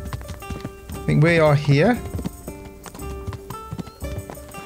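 Horse hooves clip-clop steadily in the medieval role-playing game Kingdom Come: Deliverance, a rhythmic patter running under a voice and game sounds.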